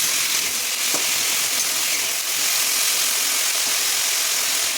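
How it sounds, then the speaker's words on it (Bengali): Potatoes cut into chunks frying in hot oil in a pan, with caramelised sugar already in the oil, giving a loud, continuous close sizzle with no breaks. "আলুটাকে ভেজে নেবো ভালো করে"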